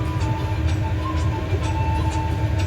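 Pakistan Railways Jaffar Express locomotive running on the Sibi to Jacobabad section as it nears a railway station, a steady, loud, close rumble of engine and wheels without a break.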